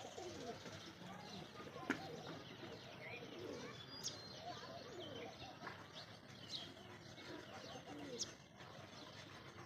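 Soft cooing of doves drifts from a distance, mixed with scattered bird chirps and a faint background murmur.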